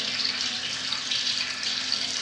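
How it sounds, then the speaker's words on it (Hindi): Water pours steadily from the faucet of a Jaquar two-seat jacuzzi bathtub with a diverter above, a continuous close hiss of running flow with no talking. "यहाँ पे पानी आ रहा है"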